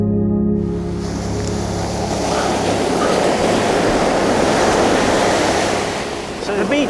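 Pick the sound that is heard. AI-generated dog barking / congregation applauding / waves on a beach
waves on a beach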